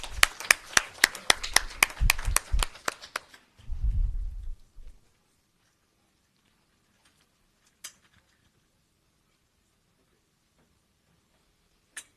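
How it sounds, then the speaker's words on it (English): Brisk clapping from a small audience at a petroleum local content policy consultation meeting, a handful of sharp claps that fade out quickly, leaving near silence broken by a couple of faint clicks. "A round of applause for them, please."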